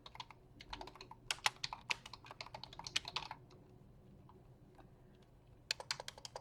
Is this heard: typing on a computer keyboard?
yes